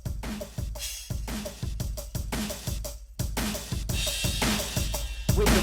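A dense, steady drum beat layers taiko, tom and cymbal in a driving repeated rhythm, with punchy low hits and bright crashes playing continuously and loudly, with no voices.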